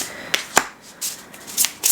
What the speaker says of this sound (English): I'm gonna try to pick 3 cards for you too